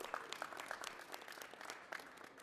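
An audience at a Lunar New Year celebration in Cook County applauds for a couple of seconds, a steady patter of many hands clapping, faint and distant in a large room.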